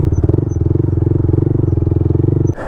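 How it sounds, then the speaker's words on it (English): A motorcycle engine pulling wheelies, a steady loud low-pitched rumble with a dense pulsing firing beat held throughout, dropping off at the very end. "While we're down here, we'll get just a couple wheelies in."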